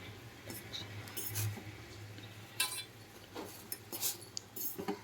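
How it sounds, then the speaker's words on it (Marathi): A fork and spoon scrape and clink against a pan while loosening a block of Maggi instant noodles in water, with scattered small metallic taps and soft stirring sounds, close and fairly quiet. "अशा पद्धतीने व्यवस्थित काटे चमच्यानं त्याला थोडंसं सैल करून घ्यायचं"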